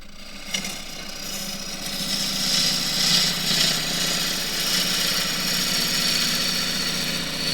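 A wood lathe turns a rectangular bowl of blue gum, and the tool cuts in a steady, loud, continuous rough whir with a rhythmic flutter as the corners pass the edge.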